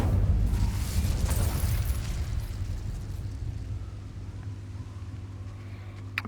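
The Incendio fire spell in a Harry Potter game bursts into a loud, booming whoosh of flame that trails off into a low rumbling decay, ending with a small sharp pop.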